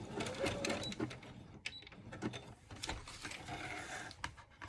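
A sewing machine stitching a fabric journal pouch at a desk, quiet bursts of rapid mechanical clatter with small clicks and pauses, heard fairly close.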